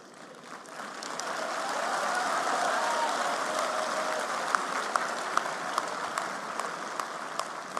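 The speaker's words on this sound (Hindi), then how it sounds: "तो जितनी वहां समझ थी उतने हिसाब से तालियां बजी।" A large hall audience applauds PM Modi's speech at a startup gathering, a soft swell of clapping that builds after a quiet start and holds as a dense, distant wash with occasional sharper nearby claps.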